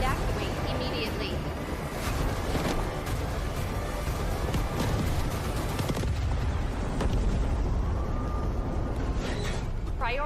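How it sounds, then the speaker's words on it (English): A reactor explosion in the Delta Force video game: a dense, loud roar of blasts and rumbling debris with sharp cracks layered throughout, sustained at full volume for the whole stretch, with a voice announcing over it. "Hydrogen explosion at reactor 2."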